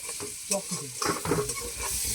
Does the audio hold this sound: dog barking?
no